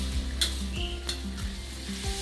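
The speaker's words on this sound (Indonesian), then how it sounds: "ini adalah proses penumisan bahan-bahan yang sudah saya iris-iris tadi, seperti cabai merah besar, cabai hijau besar, bawang putih, tomat" Red and green chilies, garlic and tomato are stir-fried in a pan, with a steady sizzle under repeated spatula scrapes and light clanks against the pan.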